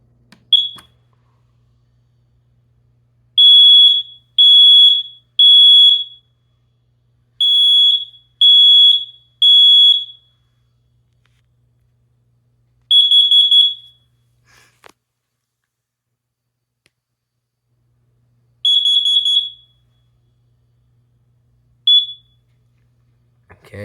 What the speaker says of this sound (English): right here we got the basement smoke detector and carbon monoxide alarm